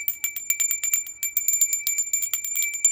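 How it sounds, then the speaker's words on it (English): A small bell rings rapidly over and over, bright and clear with a sustained metallic tone, close by and alone. "I'm going to go ahead and ring the bell."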